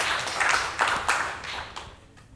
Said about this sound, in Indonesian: Tepuk tangan yang luar biasa untuk kita semua.